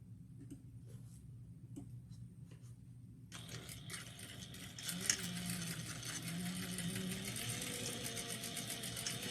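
A sewing machine stitches along the marked lines of a fabric sling, its motor kicking in after a quiet start and then running as a steady, close whir.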